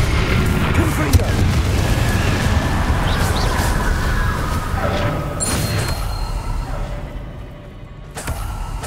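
A Confringo fire spell in the video game Hogwarts Legacy bursts in a loud, booming explosion with a long rumbling tail that fades over several seconds, backed by game ambience.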